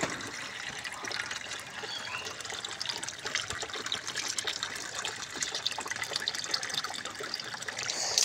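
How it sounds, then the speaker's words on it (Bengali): Water runs steadily from a tap into a container being filled in a pigeon loft, a continuous close hissing trickle that holds an even level throughout with no voices. "আগে কলটা চালিয়ে নেই, আবার ভালো করে ধুয়ে নেই চারিদিকটা, তারপর পানি ভরে নেব।"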